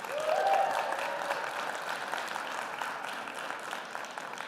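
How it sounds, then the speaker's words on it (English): An audience at an international MICE business summit applauds in a dense, steady wash of clapping that lasts throughout, with a brief whistle near the start. "Those are the people who are compulsorily cheering for me"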